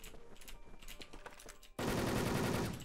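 Rapid automatic gunfire in the online shooter Wolfteam rattles in quick bursts, then becomes a denser, louder stream of shots that continues to the end.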